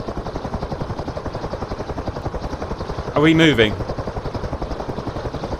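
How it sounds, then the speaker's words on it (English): A CH-53E Super Stallion helicopter in DCS World gives a steady, rhythmic rotor chop, a fast even thudding throughout, while a voice speaks briefly over it near the middle. "Tell me if you can see the helicopter moving and taking off and stuff."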